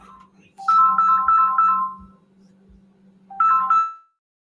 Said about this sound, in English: Yeah, we got the same ringtone.